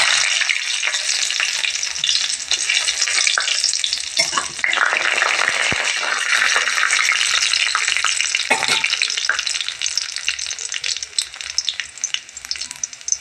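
Mustard seeds, urad dal, garlic, cinnamon and pepper sizzle steadily in hot oil for a drumstick flower stir-fry, a continuous loud crackling hiss with brief stirring clatters and no talking.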